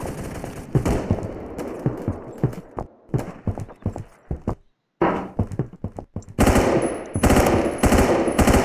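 Gunfire in a Roblox video game, rapid loud bursts of shots in uneven volleys with a brief silent gap, then sustained heavy firing.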